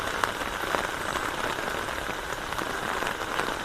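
Steady rain falls near a tin-roofed shelter at a crocodile project in the Sundarbans, making a soft, even patter with occasional louder drops striking the surface, with no one speaking.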